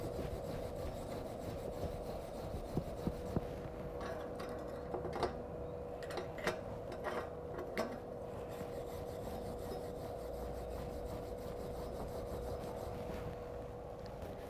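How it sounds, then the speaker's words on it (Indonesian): A steel wire brush scrubs welding slag off metal in a basic welding workshop, a steady, continuous rasping scrape close by, with a few sharper clicks and taps scattered through it and no talk. "kita bersihkan menggunakan sikat baja"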